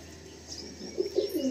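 A released female pigeon, a moon-white hen, gives soft cooing and chirping calls with faint wing movement, growing louder toward the end of the short burst.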